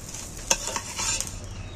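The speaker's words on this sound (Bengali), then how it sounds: "উল্টে পাল্টে ভেজে নিচ্ছি।" Fish roe fritters fry in hot oil in a pan, a steady close sizzle punctuated by a few clinks and scrapes of a utensil turning them.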